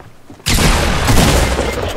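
Pistol gunshots in the Fortnite video game begin abruptly after a brief quiet moment, then run as a dense, loud volley of overlapping blasts.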